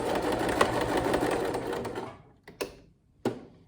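A sewing machine runs steadily while stitching down half of a pleat at the neckline of a shirt front, then stops and gives two short bursts of stitching.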